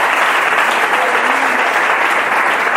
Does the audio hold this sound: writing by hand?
no